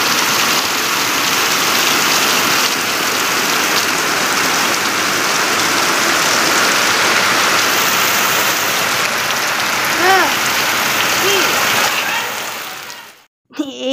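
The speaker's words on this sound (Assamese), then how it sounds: "বৰষুণ দবাপিটা বৰষুণ" Heavy rain pours steadily and loudly on surfaces outside a flooded home, a dense continuous hiss that cuts off abruptly at the end, with brief faint voices in the background.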